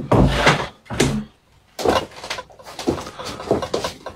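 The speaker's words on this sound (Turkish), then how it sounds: "Şu kapıyı kapatır mısın?" A door being closed indoors: several loud, close thumps and bangs in an uneven sequence, with short gaps and no talking over them.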